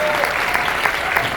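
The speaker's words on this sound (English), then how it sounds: "Let's give it a huge round of applause" A cinema audience applauds steadily after a screening of the film NONNAS, dense continuous clapping filling the hall at moderate loudness.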